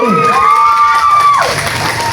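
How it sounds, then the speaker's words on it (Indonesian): Children's audience at an Islamic children's festival cheering and clapping, a loud, continuous mix of shouts and applause with a whistle-like tone rising above the crowd throughout. "Mana tepuk tangannya dari Batu Agung?"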